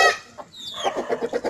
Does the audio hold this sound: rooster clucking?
yes